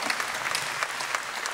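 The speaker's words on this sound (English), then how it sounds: "You can clap for that." Audience at an Elvis festival applauding, a brief dense burst of clapping from a crowd heard close.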